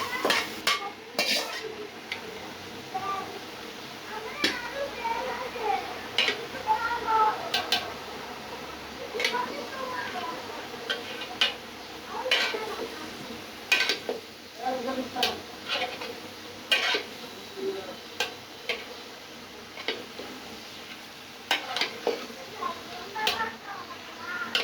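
Previously fried jackfruit and potato pieces are stirred together in a pan for a traditional Bengali pachon, with repeated scraping and clinking of a metal spoon against the pan over a faint sizzle.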